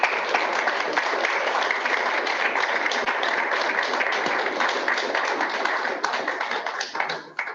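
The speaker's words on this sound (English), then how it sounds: "but one more round of applause, I suspect." An audience claps steadily after a university lecture at Australian Catholic University, dense and sustained applause that thins out near the end.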